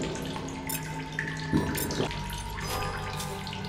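Running water in a video game, a steady close trickle and splash from a virtual tap or stream, with faint game tones and small clicks alongside, no talk.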